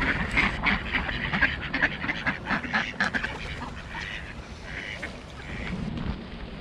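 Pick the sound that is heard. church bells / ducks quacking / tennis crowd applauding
ducks quacking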